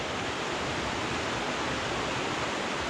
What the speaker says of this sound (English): there's some rapids.